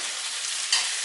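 Roasted breadfruit pieces are stirred through stewed saltfish in a pot, giving a steady soft hiss and sizzle with a brief scrape of the spoon near the end.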